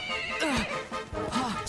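Horse neighing in the video game Dragon Quest XI, a loud whinny with rising and falling cries over about a second and a half, set against game music and noise, with no talk over it.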